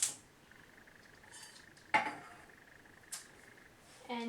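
A metal pot holding beeswax is set down on a stove, giving a few sharp clunks and clinks: one strong knock near the middle, a lighter one later, and a rattling scrape at the end over quiet room noise.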